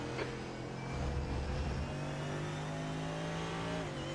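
A faster GT race car closes in from behind on the track, its engine note rising steadily and holding as a sustained loud drone over several seconds.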